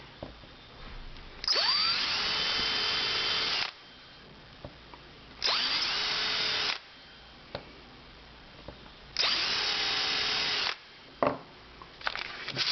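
A power drill whirs in three separate bursts of about two seconds each, drilling holes in a homemade mandrel, close and loud, with quiet pauses between them.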